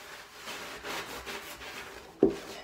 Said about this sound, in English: So now I'm just gonna mop the floor with it.